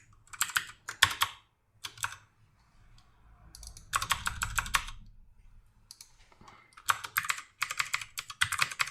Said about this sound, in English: I'm getting a bit bored of typing tags now